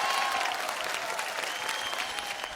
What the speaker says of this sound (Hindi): जोरदार तालियां इस बात के लिए